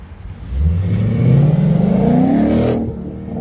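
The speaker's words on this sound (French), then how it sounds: "Jolie cette Mustang. Le mec, il arrive à fond," A Ford Mustang arriving at full speed at a car meet, its engine revving loudly and climbing steadily in pitch as it approaches close by, then cutting off sharply.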